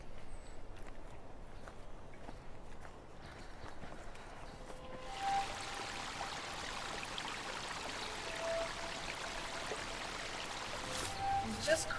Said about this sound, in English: We just crossed a fairly large tributary.